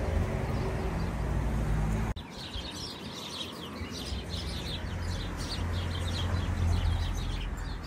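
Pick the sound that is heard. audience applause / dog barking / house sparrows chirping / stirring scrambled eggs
house sparrows chirping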